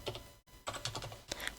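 Quiet typing on a computer keyboard, a quick run of soft key clicks with a brief pause, close and alone.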